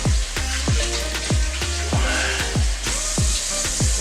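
Slider burgers sizzle steadily in a pan over medium-high heat, a constant close frying hiss with soft, regular knocks about every half second.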